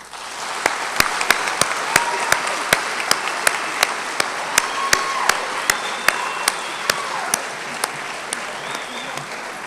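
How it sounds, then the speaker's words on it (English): An audience at a 2010 high school yearbook ceremony claps in sustained applause, a dense patter of hands with a few sharp, louder claps standing out, steady for the whole stretch with no talk. "We ask that you give them a round of applause."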